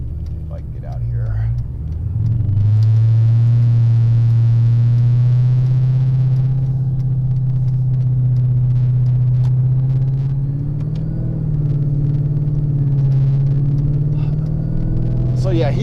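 A Dodge Challenger SRT8 tuned to about 800 horsepower driving, its engine a deep, loud, steady rumble that swells slightly as it pulls away, staying close and continuous throughout.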